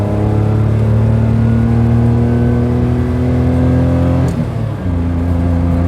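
A Perodua Kenari's small engine drones loudly and steadily from inside the car while driving, a constant hum with a brief dip in pitch and load near the end.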